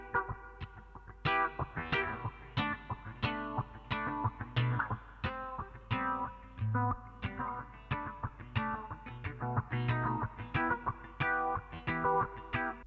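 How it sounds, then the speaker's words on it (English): Acoustic guitar run through a BOSS RC-505 loop station with a filter effect and reverb, playing rhythmic strummed and plucked chords in a repeating pattern, each attack sweeping and ringing out into a wet tail. "if I wanted to use the filter effect on the guitar and also add in some reverb to it"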